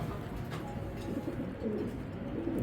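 A Belgian racing pigeon coos softly nearby in low, rolling murmurs, faint and continuous over a quiet background.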